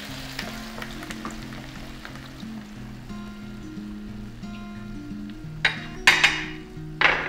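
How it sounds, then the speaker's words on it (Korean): Pork back ribs in a hot pan sizzle loudly as about a cup of red wine is poured over them, the hiss surging in sharp bursts near the end, with a low rhythmic hum running underneath. "등갈비 올려주시고 여기에 레드와인 약 한 컵을 부어보도록 할게요."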